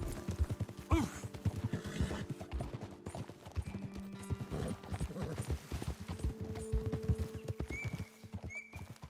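Horse hooves clip-clop in a steady, fairly close rhythm while riding in Red Dead Redemption 2, with a brief whinny and a few soft background game sounds and tones.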